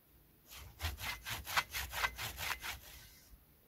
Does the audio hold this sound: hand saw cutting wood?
yes